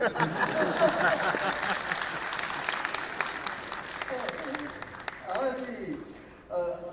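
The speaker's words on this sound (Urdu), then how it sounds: "اور تالیاں" An audience at the Islamabad literature festival claps through a funny poetry reading, dense applause that fades toward the end as a voice begins speaking.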